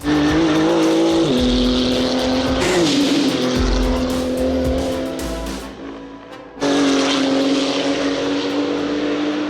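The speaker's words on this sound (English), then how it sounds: "How does the model from 2018 sound in comparison? It's best if we listen for ourselves. Let's start the engines." Flat-six engines of a 2018 Porsche 935 race car fire up and rev hard, a loud sustained roar with climbing and falling pitch, dipping briefly before surging back to full volume without any talk.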